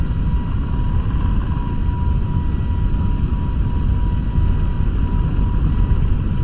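Airbus A321neo jet engines spooling at takeoff thrust in the FSLabs flight simulator, a steady, loud, unbroken roar with a deep rumble and a faint whine, no voices over it.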